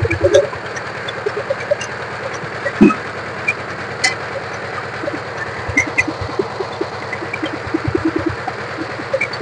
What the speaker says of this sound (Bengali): একদম রানিং পাওয়ার টিলার, একদম রানিং।